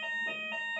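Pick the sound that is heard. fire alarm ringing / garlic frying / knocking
fire alarm ringing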